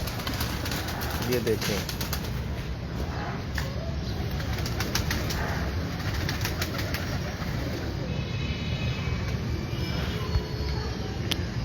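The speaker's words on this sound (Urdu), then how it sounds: "ہاں جی, یہ بھی میرا افلاطون کبوتر ہے" Aflatoon breeder pigeons on a rooftop in Golmandi, Lahore, give low cooing and bursts of wing flapping under steady background noise, while someone talks over them.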